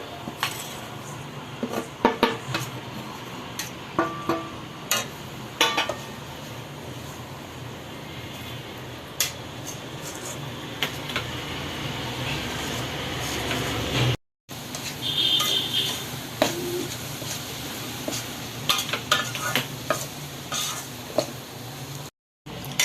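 Flour roasting in a pan for Mohanthal is stirred with a utensil, giving soft scraping and clinking against the pan with light sizzle, continuing steadily at moderate loudness with brief gaps.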